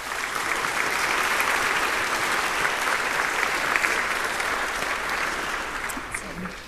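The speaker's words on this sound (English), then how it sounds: "So let's give our organizers a round of applause" Audience applause for the organizers at a Django programming conference, a sustained wash of clapping from a large crowd, steady and loud before tapering off near the end.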